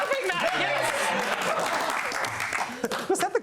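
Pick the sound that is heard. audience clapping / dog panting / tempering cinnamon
audience clapping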